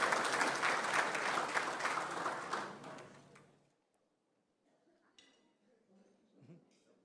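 A luncheon crowd at a business appreciation event claps for a few seconds, then the applause fades out, leaving faint clinks of dishes and cutlery in a quiet room.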